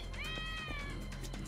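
A cat in the video game Yakuza: Like a Dragon gives a single clear meow with a rising then falling pitch, fairly faint over a low steady background hum.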